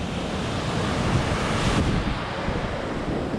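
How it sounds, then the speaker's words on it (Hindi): Ocean waves break continuously at Marina Beach in Chennai, a loud, steady surf roar with heavy wind buffeting the microphone throughout. "देख लो भाई लहरें खाली देखो कितनी ऊंची ऊंची हैं"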